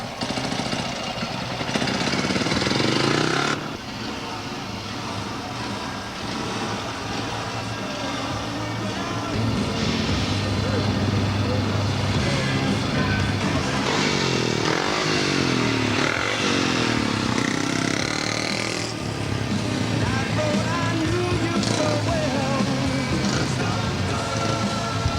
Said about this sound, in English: it finally fires up, so he will be in this event